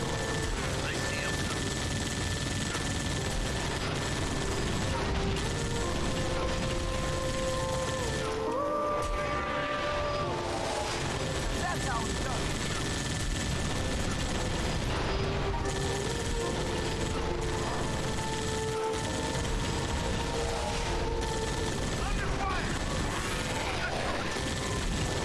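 Turret fire in the video game Halo: Spartan Assault, a steady stream of rapid mechanical shots and clanks running continuously over game music with brief gaps.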